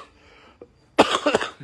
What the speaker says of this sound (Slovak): ten legendárny kašlíček